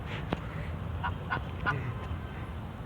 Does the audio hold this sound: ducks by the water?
yes